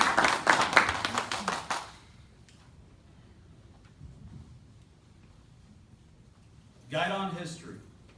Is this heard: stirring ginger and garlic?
no